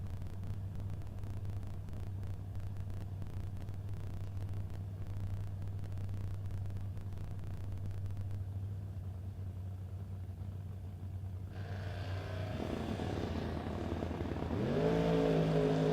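A 1964 Chevelle and another drag car at a no-box drag racing shootout, first a steady low engine rumble while staged, then revving and launching down the strip with a rising roar at the end.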